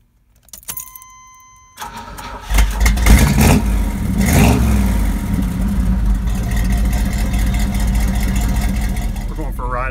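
Keys jangle and an engine turns over before a Chevrolet Suburban SUV revs up loudly, a surging roar that settles into a steady, close engine drone.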